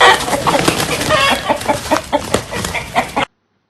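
Rooster clucking close by in a quick series of sharp, rhythmic bursts, loud and alone, breaking off abruptly into silence.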